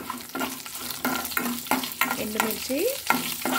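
Dried red chillies and curry leaves frying in hot oil for a tempering, with close crackling sizzle and repeated spoon stirring scrapes in an uneven rhythm, no voices.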